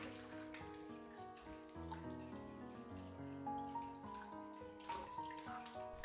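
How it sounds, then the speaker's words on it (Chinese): Fresh cucumbers rinsed under a running kitchen tap, the water streaming steadily beneath a bright musical backing track. "黄瓜放流动的清水下清洗干净"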